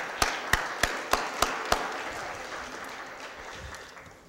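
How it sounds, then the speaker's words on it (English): Applause for a guest at a St. Louis Board of Aldermen meeting comes as a handful of sharp, evenly spaced claps in a large room, then fades into quiet room tone. "Let's give him one more round of applause."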